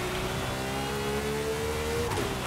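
Rossion Q1 supercar in Forza Horizon 5 accelerating hard, its engine note climbing steadily in a loud continuous rev with a brief shift near the end, no talking.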